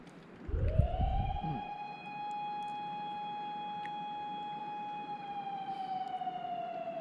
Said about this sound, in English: I just started hearing the siren again.